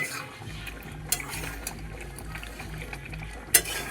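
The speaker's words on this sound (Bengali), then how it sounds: "একটু নেড়ে নিচ্ছে" A boiling chicken curry is stirred in a pot, with steady bubbling and a few soft spoon knocks against the pot's side, the loudest near the end.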